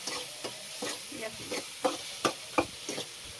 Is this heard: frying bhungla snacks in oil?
yes